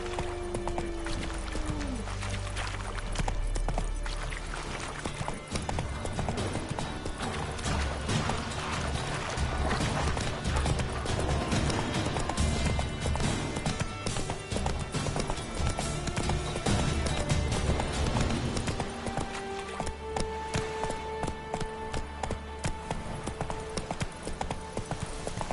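Roach, the horse in The Witcher 3, gallops with steady, rapid hoof clip-clops and an occasional whinny, layered over game music and ambience.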